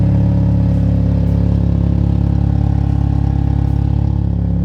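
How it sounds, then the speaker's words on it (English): A Chevrolet Cobalt engine with a leaking exhaust drones loudly and steadily, a deep resonant rumble held close and continuous without any talk over it. "it's definitely a lot louder than it should be, and it's all up here at the engine and it resonates just inside"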